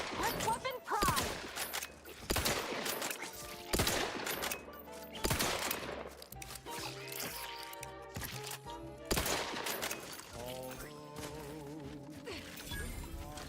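Weapons fire in the space shooter game The Outer Worlds 2, with repeated loud bursts of gunfire and booming impacts over game music and effects.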